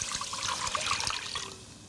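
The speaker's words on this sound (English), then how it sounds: "I'm going to take some water and I'll pour it into the pan" Water is poured into a cooking pan to make hot and sour soup, a steady trickling splash, close and moderately loud, tapering off at the end.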